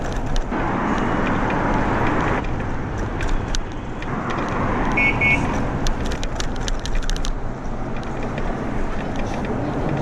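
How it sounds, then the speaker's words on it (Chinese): Electric scooters speed past on a busy city road with a bike lane near Xinzhuang Station in Shanghai, heard as a continuous rush of traffic and wind noise with brief louder passes. "身边呢有很多的电单车啊，快速的通过"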